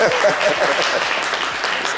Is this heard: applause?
yes